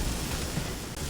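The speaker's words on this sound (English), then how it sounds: "They usually leave some kind of hissing or white noise." Steady broadband hissing white noise from electrical effects in the video game Wasteland 3, constant and unbroken throughout with no voices over it.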